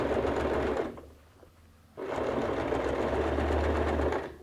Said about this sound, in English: Go ahead and sew at the edge of the binding.